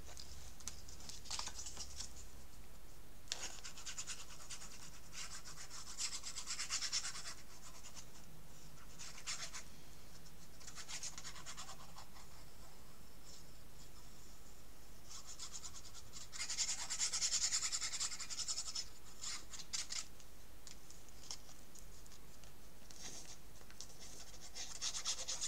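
Glue being spread by hand onto black album binding board, quiet intermittent brushing and scraping strokes that come in short bursts with pauses between, close and faint, with no voices.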